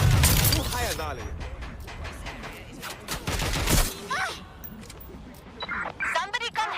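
Gunfire rattles in a Watch Dogs Legion shootout, loud bursts crowding the opening seconds and then scattered shots and metallic clanks, mixed under game voices speaking.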